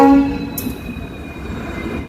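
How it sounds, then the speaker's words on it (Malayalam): An ALCO diesel locomotive train rumbles past close by with a low, steady mechanical drone and a brief high tone, cutting off abruptly at the end. "ട്രെയിൻ ഇപ്പോൾ തിരുവാവൂർ ജംഗ്ഷൻ റെയിൽവേ സ്റ്റേഷനിലേക്ക് എത്തിക്കുകയാണ്."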